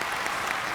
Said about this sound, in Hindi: जोरदार तालियां फॉर नेहा एवरीबॉडी।